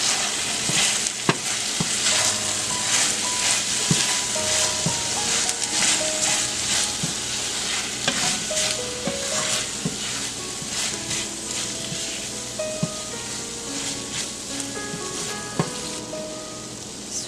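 Paneer and vegetable filling sizzles steadily in a hot pan, with repeated scraping and clinking of a spoon as it is mixed, close and continuous with no talk.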